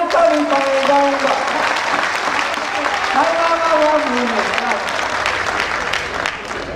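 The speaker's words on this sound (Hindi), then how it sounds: "4-4 बारी यार तालियों से करो प्यार, तब जाके नहीं 4 कविताएं गाऊंगा" Audience applauding at a Hindi poetry recital at a Lal Qila kavi sammelan, sustained dense clapping from a large crowd, with a voice intoning over it.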